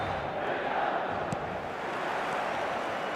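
A stadium crowd roars in a steady, dense wash throughout an eFootball 2026 match, loud and continuous with no clear peaks.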